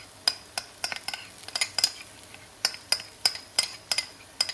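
Stirring ginger and garlic into golden caramelized onions in a karai: a spoon scrapes and clinks against the pan in steady, repeated strokes with a faint sizzle underneath, no talk.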